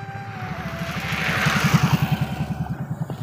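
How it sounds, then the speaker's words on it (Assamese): A motorbike approaches, its engine putting out a rapid, pulsing throb that grows steadily louder as it nears, running alone with no talk. "বাইক আহিছে হা"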